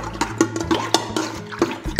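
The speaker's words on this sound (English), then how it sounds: "Just swish that around a bit" Water swished around with yeast in a mixing bowl during bread making in a bakery, giving repeated soft sloshing and clinking strokes at a steady rhythm, close up with no talk.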